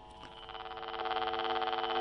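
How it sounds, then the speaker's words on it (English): A 500XP pair tracing probe sounds its power hum warning for AC power on a telephone pair, a steady buzzy tone with a fast warble that grows slightly louder over two seconds. "That's the power hum or power cross warning signal."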